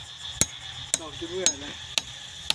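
Hammer blows pounding at a steady pace, five sharp loud strikes about half a second apart, with a voice briefly speaking between them.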